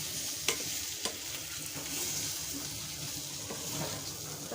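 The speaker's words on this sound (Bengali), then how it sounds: "সব মাংস একসাথে নিয়ে ম্যাশ করে নিচ্ছি" Boiled potato and chicken being mashed together in a pan, a soft continuous squashing and stirring texture with a few sharper knocks near the start, close and steady with no talking.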